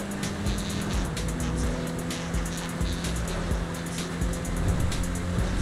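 A car racing at speed in GTA Online, with a sustained engine roar and tire noise, loud and constant at close range, with a steady tonal drone layered underneath.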